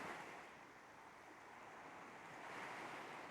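Soft ocean waves wash in a steady, continuous broadband surf, gently swelling and easing without any distinct breaks, heard alone with no voices.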